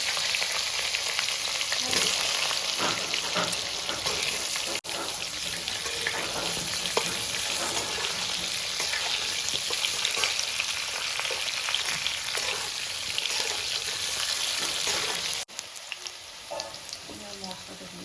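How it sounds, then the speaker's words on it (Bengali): Potatoes fry in oil with a loud, continuous sizzle that stays steady from start to finish, dipping only briefly a couple of times. "এবার আমি আলুগুলো একটু ভেজে নেব, লাল লাল করে ভাজবো আলুগুলো"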